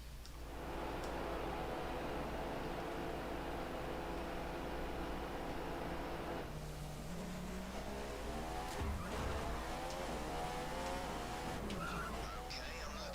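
F1 race car from the F1 2015 video game leaving the pits, a steady engine drone under a voice talking, with shifting pitch and a brief tire squeal partway through.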